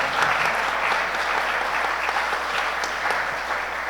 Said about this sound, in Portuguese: Certo, aplausos.